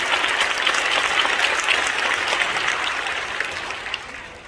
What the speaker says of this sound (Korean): 우리 이분들에게 뜨거운 박수 한번 드리겠습니다